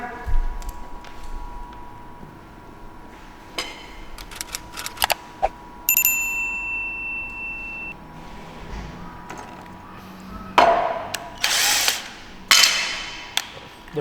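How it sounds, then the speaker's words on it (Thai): A power drill with a step drill bit whirs in short bursts, biting into a plastic block with rising grinding noise, between quieter pauses and faint handling clicks. "เดี๋ยวเรามาลองเจาะดอกตัวนี้นะครับคร่าวๆกันดูอีกครั้งหนึ่งนะครับ"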